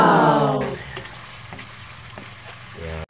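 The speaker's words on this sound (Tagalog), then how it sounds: "Kumukulo siya mga kaibigan." Pork liempo paksiw bubbling in a pot, opening with a loud sizzle that settles into soft bubbling and crackling, close and steady.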